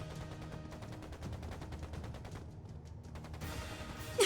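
Dense rapid gunfire rattles in Trails into Reverie, a continuous volley of quick shots at moderate level that thins briefly before a sharp burst at the end.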